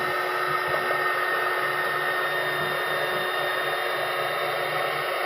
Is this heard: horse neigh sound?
no